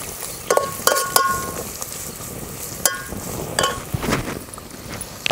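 Onion roasting in a pan: a soft, steady sizzle with scattered sharp clinks and scrapes from stirring, close and moderately loud, no talking.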